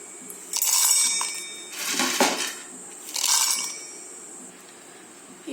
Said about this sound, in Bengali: এবার এই বাদামগুলোকে একটা মিক্সির জারের মধ্যে দিয়ে দেবো।